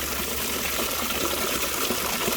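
Water gushes steadily into the upper pool of a backyard waterfall, a loud, continuous splashing rush with no voices.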